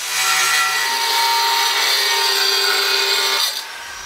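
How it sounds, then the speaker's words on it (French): A jigsaw cuts steadily with a loud, continuous buzzing whine for about three and a half seconds, then drops off abruptly, leaving a quieter background. "on n'entendait rien du tout à cause de la scie"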